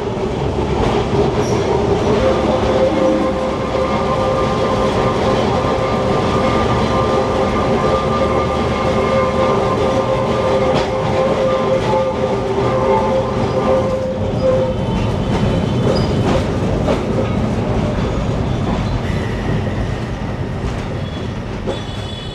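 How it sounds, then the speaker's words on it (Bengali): A Kolkata tram runs from Esplanade to Shyambazar with a loud, continuous rumble of wheels on rails, rhythmic clatter and occasional squealing tones throughout. "এই ছিল আমাদের ধর্মতলা থেকে শ্যামবাজার পর্যন্ত ট্রাম জার্নি"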